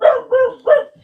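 A dog barking three times in quick, close succession, loud and sharp with short gaps, with no talk over it.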